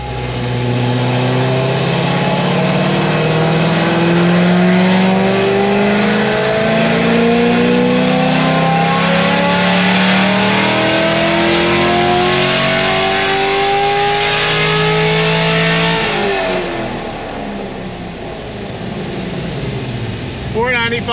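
A Corvette Grand Sport's LS3 V8 held at full throttle on a dyno, a loud sustained roar rising steadily in pitch for about fifteen seconds before the revs drop off and the engine settles.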